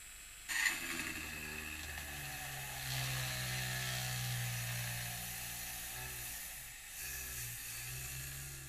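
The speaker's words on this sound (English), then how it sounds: "drill through here and see what happens." A TACKLIFE rotary hobby tool drills a hole, its high-pitched motor whining steadily for several seconds after a sudden start, with the pitch dipping slightly under load.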